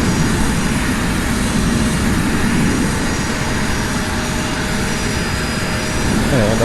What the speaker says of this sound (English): get that APU up and started